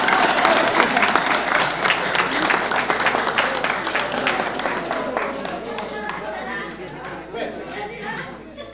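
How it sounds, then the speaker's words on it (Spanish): Outdoor village crowd at a rural Peasant's Day comedy show in Huertas, Chilete, breaking into lively clapping that starts strong and slowly thins out, with scattered cheers and chatter mixed through it. "Si quieren me aplauden,"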